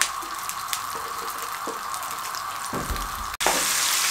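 Tomato, browned onion and green chilli paste sizzling and frying steadily in hot oil for egg masala curry, a continuous close crackle with a brief stir and clatter near the end.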